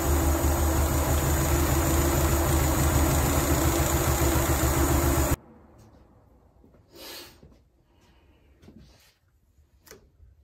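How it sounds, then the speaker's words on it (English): A loud car engine idling roughly with a steady low rumble for about five seconds, running badly with a vacuum leak, then an abrupt cut to quiet with faint scattered sounds. "so I've raised the idle a little bit, but it still runs terribly"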